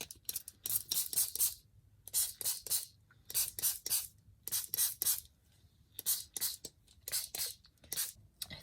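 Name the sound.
spraying water from spray bottle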